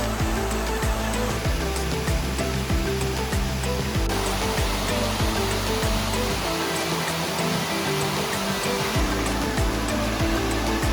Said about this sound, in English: Now I just need the official waterfall shot.